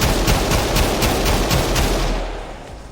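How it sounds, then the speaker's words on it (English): Heavy automatic cannon fire from a modded armored personnel carrier in GTA 5 Online, a loud rapid burst of closely spaced shots that tapers off near the end. "the APC should shoot like this"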